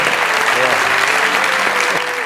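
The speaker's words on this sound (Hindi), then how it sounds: "तालियां।" An audience breaks into steady applause during a poetry gathering, continuous clapping with a voice talking over it.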